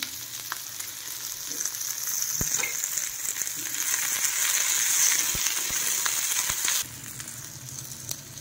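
Ginger and garlic frying in a pan for chole: a steady, close, hissing sizzle with scattered pops and clicks, easing off near the end, with no one speaking.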